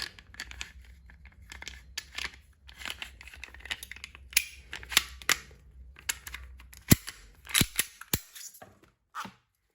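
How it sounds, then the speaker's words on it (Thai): An airsoft gun is dry fired with no gas loaded, giving a series of sharp mechanical clicks and snaps scattered irregularly over soft handling noise, close and moderately loud. "เดี๋ยวลองยิงเปล่าๆให้ดู สักนิดนึงนะครับ"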